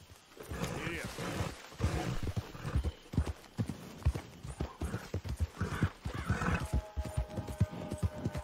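A horse in the Red Dead Redemption II video game neighs loudly while its hooves clip-clop in a quick, irregular rhythm, close and prominent, with a brief mechanical tone near the end.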